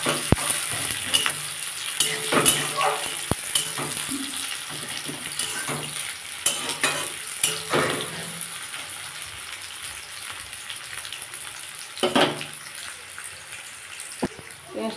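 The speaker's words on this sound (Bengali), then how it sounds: "এরপর আমি পেঁয়াজ দিয়ে দিয়েছি। পেঁয়াজটা একটু ভেজে নেবো।" Onions frying in a pan with black cumin seeds for a Bengali gourd and prawn curry, a steady close sizzle with occasional scraping stirs and brief louder bursts.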